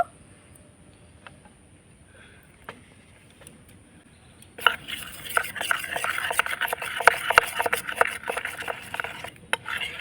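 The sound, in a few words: stirring flour and water paste in a bowl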